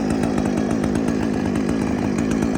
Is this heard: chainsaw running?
yes